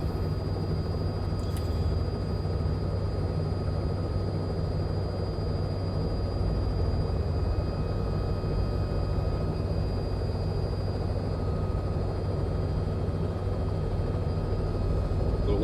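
A simulated Robinson R66 helicopter in flight produces a steady, continuous drone of rotor and turbine that holds at an even level throughout, with faint voices now and then.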